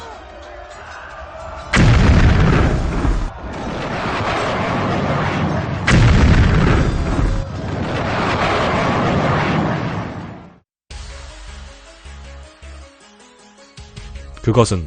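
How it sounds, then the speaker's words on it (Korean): Heavy booms of Mamluk exploding cannon fire in a dramatized Battle of Ain Jalut, two loud sustained blasts with rumbling aftermath, followed by dramatic music; a narrator speaks over it. "맘루크군이 발사한 폭발하는 대포, 아라비아어로 모아드파였다."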